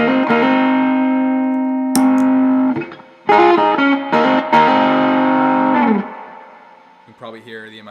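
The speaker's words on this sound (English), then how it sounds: "Probably hear the amount of hiss that's happening there in the background" Distorted, fuzzy electric guitar chords from a Fuzz Face pedal ringing out in bursts, then fading as a faint compressor hiss lingers underneath.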